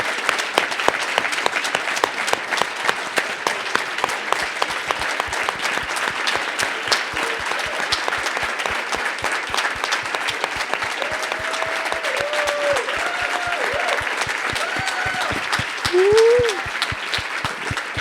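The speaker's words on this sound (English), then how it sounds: "everyone should give her a round of applause" An audience applauds steadily at a talk on fighting anti-trans legislation, dense sustained clapping with a brief cheer or whoop near the end, fairly close and continuous.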